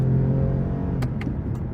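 Engine of a 2023 Toyota Camry TRD V6 humming steadily from inside the cabin, a continuous low drone with a few short sharp clicks or knocks near the end, moderately loud with no talking.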